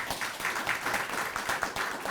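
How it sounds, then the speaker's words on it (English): Conference audience applauding panelists at an anti-corruption event, steady dense clapping from a crowd, moderately distant and continuous. "Shall we give a big applause to our panelists?"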